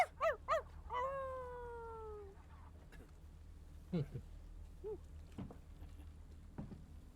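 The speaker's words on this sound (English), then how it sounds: "Oh, it's a fox, I think." A fox screaming in the video game Before Your Eyes, heard as a few sharp high cries and a drawn-out wavering call at the start, then fainter scattered calls over a steady low background hum.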